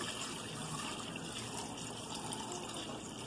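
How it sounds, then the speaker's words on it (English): Bone broth poured through a strainer to catch the last solids, making a steady, continuous rush of liquid that stays even and fairly close throughout, with no talking. "now we have to strain it to separate what little solids might be left"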